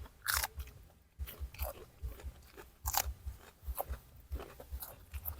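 Crunchy chewing and biting while eating som tam papaya salad outdoors by a pond, with repeated close, loud bites and chews in an irregular rhythm and no talking.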